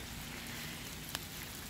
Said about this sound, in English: Anyway, yeah, I'm out in the rain.